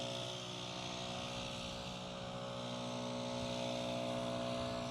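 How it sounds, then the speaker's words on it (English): Leaf blower clearing debris off a firewood processor outdoors on a cold day: a steady, droning motor whine with constant airflow rush, unbroken and moderately distant, with no talking. "Jeff is over here leaf blowing the processor so I can work it today"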